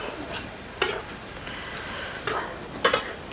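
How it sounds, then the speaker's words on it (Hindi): A spoon stirs and turns carrots roasting in a pan for gajar halwa over low heat, with three distinct metallic scrapes against the pan over a soft background hiss. "इसके हम ऐसे धीरे धीरे धीमी आंच में इसके हम उलट पलट चला लेते हैं।"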